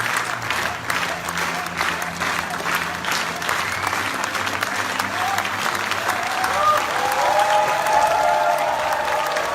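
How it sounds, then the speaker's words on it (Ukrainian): An audience at the Cannes Film Festival world premiere of the film Pamfir applauds continuously, a dense sustained wash of clapping from a large crowd that swells slightly toward the end, with some faint voices mixed in. "публіка аплодувала дуже тривалу кількість часу"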